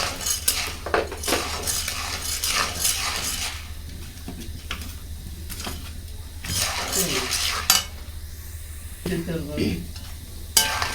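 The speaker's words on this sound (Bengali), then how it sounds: "দিয়ে একটু পরিমাণ মতো লবণ দিয়ে একটু এভাবে ভাজতে হবে" Corn kernels frying in hot oil with salt in a wok for homemade popcorn, with a steady close sizzle under repeated metallic scraping and clinking of a stirring spoon against the pan.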